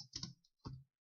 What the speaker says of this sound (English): Let's just type it since it's right.